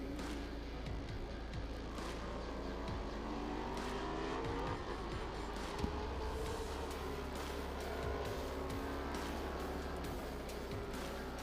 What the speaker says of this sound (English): the field is now rolled away from the grid and warming up out on the racetrack